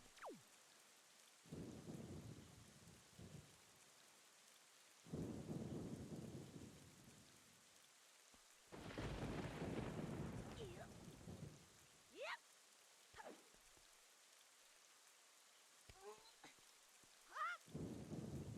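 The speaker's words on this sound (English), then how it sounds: "A little rain once in a while isn't bad at all." In The Legend of Zelda: Wind Waker HD, a game rainstorm hisses faintly. Louder bursts of rain or thunder come in and out, alongside short, sharp, chirpy game sounds in the quieter gaps.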